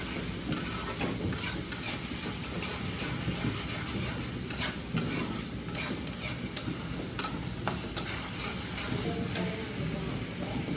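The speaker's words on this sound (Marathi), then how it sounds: "गॅस आपण फास्ट करूया आणि परतून घेऊया." Onion and tomato with a little turmeric sautéing over high heat in a pan, a continuous loud sizzle broken by frequent clattering stirs and scrapes of the spatula, close by, with no voices.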